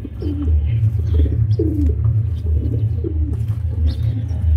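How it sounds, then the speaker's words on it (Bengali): A racing pigeon coos repeatedly at close range while being handled in a loft, a series of soft throaty calls over a low steady rumble. "খুবই ছটফটে একটা কবুতর"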